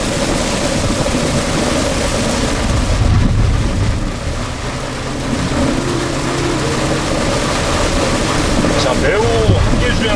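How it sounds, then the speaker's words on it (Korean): Heavy rain during a drive in a Volvo XC60 D4 at a hard pace: a dense, constant rushing hiss of rain and road spray with wind noise, close and loud, under a voice speaking. "비가 지금 엄청난 양으로 내리고 있는 와중인데"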